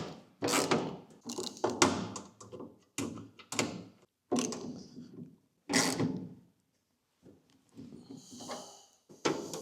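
Metallic clanks and taps of a 13mm wrench working a bolt on a Willys MB jeep, several close, irregular knocks and ratcheting bursts with short pauses between them.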